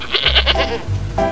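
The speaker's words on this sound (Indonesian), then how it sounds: "Ini kambing-kambingnya" An Etawa goat bleats loudly and close by in two wavering, nasal calls, the second starting after a short gap.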